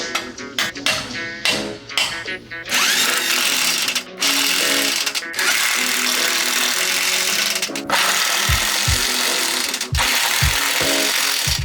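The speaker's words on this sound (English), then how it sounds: "a little bit of muscle and the impact gun, they went in pretty easy" Impact gun driving bolts into a winch bumper, with short sharp rattling bursts starting and stopping, then longer sustained hammering runs broken by brief pauses, close and loud.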